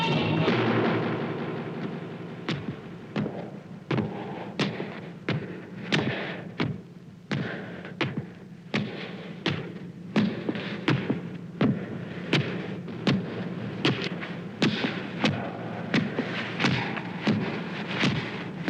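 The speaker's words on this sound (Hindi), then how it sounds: "ये किसके पदचाप की ध्वनि है" Heavy booming thuds strike in a slow, steady rhythm, roughly one per second, each a deep impact over a low ringing rumble.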